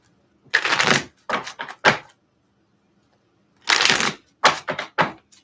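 A deck of tarot cards is shuffled by hand during a reading, in two clusters of crisp riffling bursts separated by a quiet pause, each burst a few short rapid flurries, close and clear with no talking.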